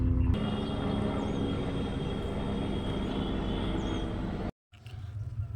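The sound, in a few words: helicopter flying low overhead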